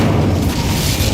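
An Incendio fire spell from Hogwarts Legacy erupts as a heavy, sustained whooshing boom, a loud, rumbling surge of flame that fills the whole second.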